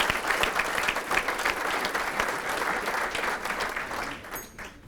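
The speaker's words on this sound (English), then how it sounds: "That deserves a round of applause." An audience claps together in a dense, sustained round of applause that fades slightly in the last second.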